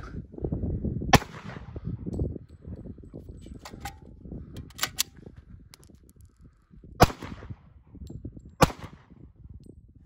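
Glock pistol shots fired from behind a rifle-rated mini ballistic shield, several sharp cracks spaced irregularly, some close together, over faint rustling and low background noise.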